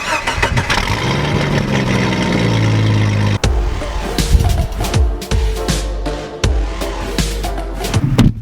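A car engine cranks and catches after rear axle repairs, then settles into a steady, close, loud idle with occasional revs. No one speaks.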